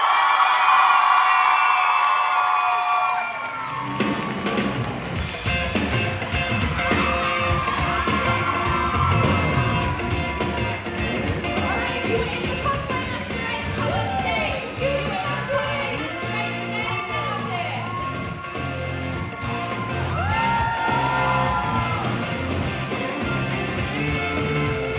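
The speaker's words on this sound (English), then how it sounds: "can we all get a huge round of applause for Hazel?" Large audience at a cosplay masquerade on stage at a comic convention bursts into loud, sustained applause mixed with cheers, whoops and yells, steady and dense throughout.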